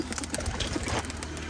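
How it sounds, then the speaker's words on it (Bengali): Pigeons on a rooftop coo faintly beneath a wash of broad outdoor noise over a short stretch. "কবুতর কিন্তু অনেক দেখছি আমরা, আকাশে উড়ে বেড়াচ্ছে"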